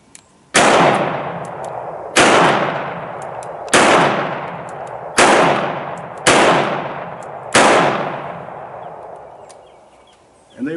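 Korth Mongoose Combat revolver firing 9mm rounds double action, six loud sharp shots spaced roughly a second and a half apart, each followed by a decaying ring.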